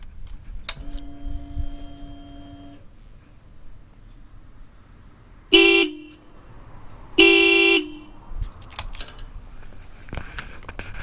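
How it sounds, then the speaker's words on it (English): A Honda CB350 RS motorcycle horn sounds in two loud, sustained blasts, each about half a second long. Quieter tones and clicks come before and after them. "Do you want to hear the horn? Let me just play it for you."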